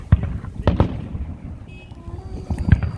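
Fireworks burst near a dog park, a few sharp booms and crackles spaced apart, moderately distant, with faint background noise between the blasts.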